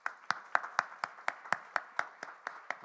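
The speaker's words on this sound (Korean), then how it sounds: "우리 함께 격려와 축복의 박수하도록 하겠습니다" A church congregation at a Sunday service claps in a steady, even rhythm of about four claps per second, fairly faint and roomy, with no talk over it.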